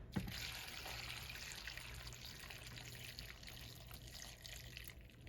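Water is poured into a pot of Hopping John peas, a soft, steady trickle splashing and gurgling quietly throughout with no talk.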